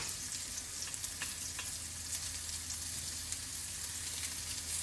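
Sausage frying in a pan, already turning golden brown with bits stuck to the bottom, gives a steady, close sizzle with small crackles and pops, and no one speaks.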